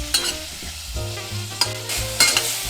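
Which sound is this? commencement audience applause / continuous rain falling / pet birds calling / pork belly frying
pork belly frying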